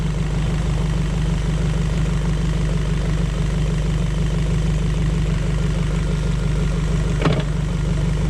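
Suzuki DF90A outboard motor idling steadily in gear during routine maintenance, a constant low engine drone with one brief louder knock near the end.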